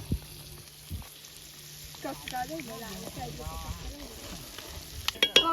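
Chicken frying in a pan at an outdoor lakeside party: a moderate, close sizzle runs throughout, with stirring scrapes near the end, while people talk over it.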